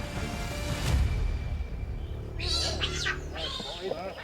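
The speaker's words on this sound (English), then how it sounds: "there's unmistakable chirping from the enclosure and the travel crate" Giant otters in an animal park enclosure and a travel crate give high, wavering chirps and squeaks in quick bursts over a steady low background hum, moderately close and clear.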